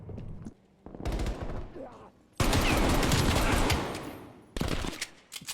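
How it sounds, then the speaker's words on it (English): Rapid-fire gunfire from a video game played on a modded Xbox Series X controller comes in loud bursts of fast automatic shots, the longest lasting about two seconds, with a voice heard between the bursts. "All I was doing was holding in the fire button and it automatically rapid fires."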